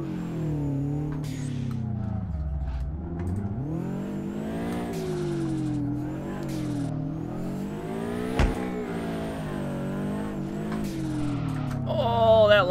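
Simulated car drifting in the DRIFT21 racing game, played on a wheel and pedals: a steady engine drone with rising and falling revs throughout, tire squeal and a sharp thump near the middle, and a louder surge at the end.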